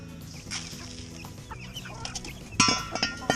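Chickens cluck softly while feeding in a coop, with small hens and larger hens close by, the low murmuring clucks rising to a few sharper, louder calls near the end.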